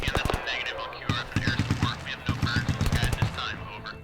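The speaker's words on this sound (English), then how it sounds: "hearing the cracks of the AK-47, it still sends chills down my back when I have to listen to it" Rapid bursts of AK-47 rifle cracks from a film soundtrack, loud and close, firing in quick repeated volleys with brief pauses between strings of shots.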